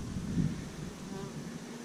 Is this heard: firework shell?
no